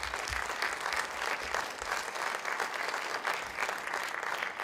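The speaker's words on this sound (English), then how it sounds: "Let's give a big round of applause for the candidates." Audience applause for the candidates at a county candidate forum held in a middle school, a steady, moderately distant sound of many people clapping that holds an even level for several seconds without speech.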